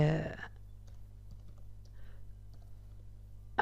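Soft, scattered keystrokes on a computer keyboard as text is typed into Photoshop, light irregular clicks over a steady low hum after a brief voice at the start.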